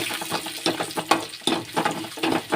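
Onion frying in a pan with a little cumin, crackling and sizzling steadily up close with intermittent stirring scrapes and bursts.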